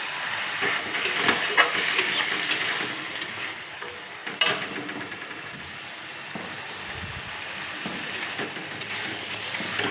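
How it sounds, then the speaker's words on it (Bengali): Masala frying in a pan for a catla fish head and cabbage curry hisses and sizzles steadily after a splash of water goes in, a broad close hiss with faint stirring scrapes and no talk. "মশলাটা একটু ধরে যাচ্ছে, তার জন্য সামান্য পরিমাণে জল দিয়ে দিলাম।"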